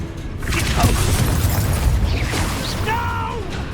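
A Confringo blasting spell goes off in the Hogwarts Legacy video game as a heavy, rumbling boom that swells and holds for a few seconds, with a brief voice over it near the end.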